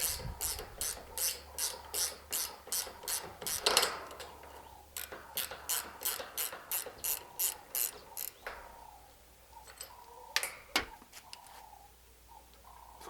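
Ratchet wrench twisting a long rusted stud off a Toyota Hilux: a steady train of close, crisp clicking strokes in quick rhythm, pausing briefly, then resuming more sparsely toward the end, with no talk.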